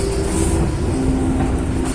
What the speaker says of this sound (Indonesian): kereta api Mutiara Timur telah tiba di stasiun Rogo Jampi